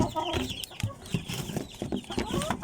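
Gold gamefowl rooster kept in a cage, clucking in short, repeated, fairly close calls with some rustling and faint background sounds.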